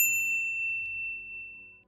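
A single bright notification bell ding strikes at the very start and rings on with a clean, slowly fading tone for almost two seconds, heard alone with no voices.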